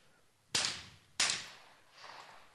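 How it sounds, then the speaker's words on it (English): Two sharp rifle shots crack at a European shooting championship about half a second apart, each followed by a short decaying echo, then a softer third report trails off in an otherwise quiet range. "he shot all 3 of his shots"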